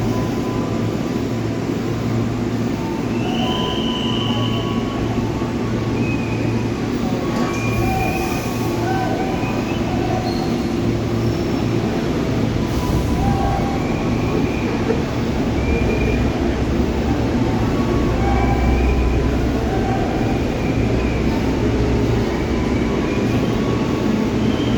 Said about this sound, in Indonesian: KRL bandara yang tadi terkena insiden di sekitar stasiun Polis, melintas dengan kecepatan sekitar 10 km per jam dan ditarik dengan kereta penolong NR